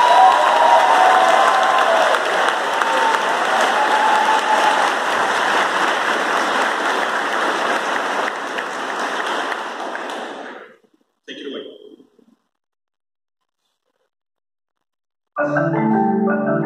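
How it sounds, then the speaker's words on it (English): An audience applauds Dr. Stuber at a music performance, a dense sustained clapping for about ten seconds that fades out, a short scattered patter, silence, then a voice at the end. "Let's give Dr. Stuber a round of applause"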